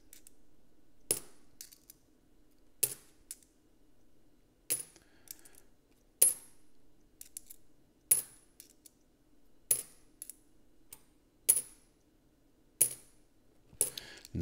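A handful of 10 cent coins is sorted through by hand, giving sharp metallic clinks in regular bursts about every one to two seconds, close and fairly loud over a faint steady hum.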